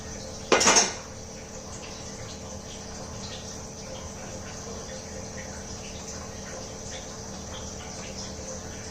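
A plate set down over finger millet idli with a short ceramic clatter near the start, followed by quiet kitchen background.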